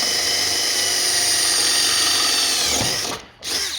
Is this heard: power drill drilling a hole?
yes